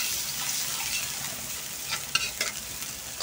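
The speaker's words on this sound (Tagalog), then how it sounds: "Mag-umpisa na tayo mag-gisa ng ating sahog sa ating pansit bato gisado." Garlic sautéing in hot oil for pansit bato gisado, a steady close sizzle with soft stirring scrapes and a few sharper clinks near the end, no talking.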